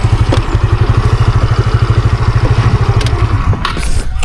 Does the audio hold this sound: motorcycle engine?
yes